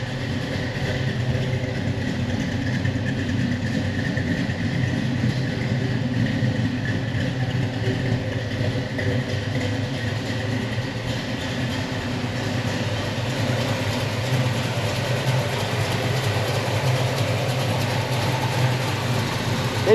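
A 1964 Chevelle SS convertible's engine idles steadily just after startup, a constant low rumble with no talking.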